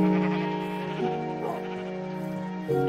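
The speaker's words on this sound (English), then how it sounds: "Why is there so many shaved sheep?" Minecraft sheep bleat in a run of drawn-out, nasal calls, close and clear, over a steady tonal game background.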